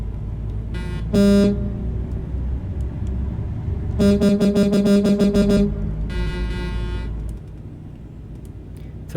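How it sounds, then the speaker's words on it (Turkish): Euro Truck Simulator 2 beta traffic, with vehicle horn toots in short bursts (one brief, then a longer repeated series, then another) over a steady low engine rumble of a truck hauling a double trailer. "Trafik seslerini biraz duyalım mı?"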